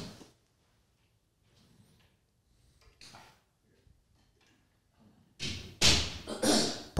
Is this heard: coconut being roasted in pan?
no